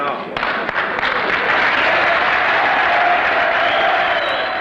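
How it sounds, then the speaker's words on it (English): Applause at a tense community meeting in 1972, a broad crowd clapping steadily and loudly, filling the whole stretch with a continuous rush of hands. "The applause that greets a call for peace by a youth services worker"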